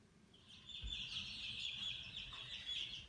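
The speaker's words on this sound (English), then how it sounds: "here's the big chickens out in the coop here" Older young chickens, not yet laying, cluck and chatter softly inside a coop, a faint continuous flock murmur with no talking.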